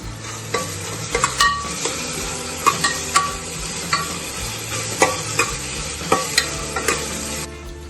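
Ginger garlic paste frying with chopped tomatoes in a pan for masala khichdi, a loud continuous sizzle with regular spoon scrapes and knocks against the pan every second or so, close up and with no voices.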